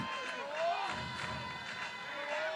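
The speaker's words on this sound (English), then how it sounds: "feel and hear the crowd" Crowd at a Georgia Bulldogs vs Florida Gators softball Super Regional roars and cheers steadily in a stadium, a dense, continuous wash of voices with whoops rising above it throughout.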